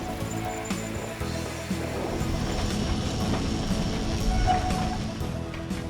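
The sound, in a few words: cable tram climbing up a hill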